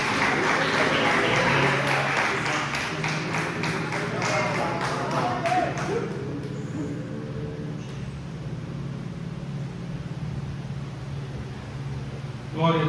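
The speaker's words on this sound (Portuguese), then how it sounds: "Receba o servo do Senhor aplaudindo a Jesus Cristo." A church congregation claps for a servant of the Lord in a Portuguese-language service, with dense applause over the first six seconds before it fades into room murmur and voices.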